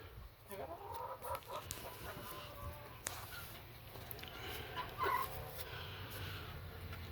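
Chickens and a few roosters in a coop holding meat birds and a broody hen, giving scattered soft clucks and calls over a steady background hum, one louder squawk standing out midway.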